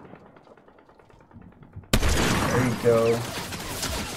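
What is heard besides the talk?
gunfire in a video game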